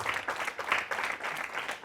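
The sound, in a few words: audience applause for the facilitators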